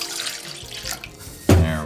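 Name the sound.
cup of water poured into a bowl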